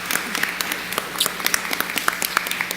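Congregation clapping during a Sunday church service, a moderate patter of many hands with scattered sharper claps, steady across the short stretch with a faint voice underneath.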